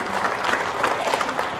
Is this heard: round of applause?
yes